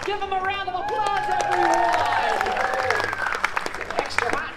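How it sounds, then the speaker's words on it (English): Audience applause and cheering at a Monsters Inc. Laugh Floor holiday show, clapping from a crowd swelling briefly alongside music and a performer's voice, with whoops scattered through. "Give him a round of applause"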